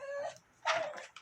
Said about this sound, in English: This is my aunt's dog, Chica.